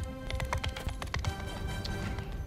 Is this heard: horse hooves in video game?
yes